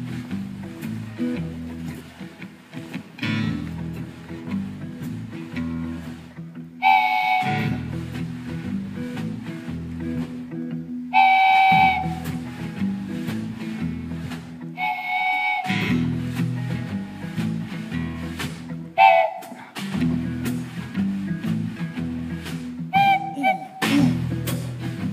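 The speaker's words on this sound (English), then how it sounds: "Zach is going to play one of the most difficult instruments in the world. It's called a wooden train whistle." A wooden train whistle is blown in repeated bursts, with breathy, chord-like hoots recurring across the stretch over a steady musical backing.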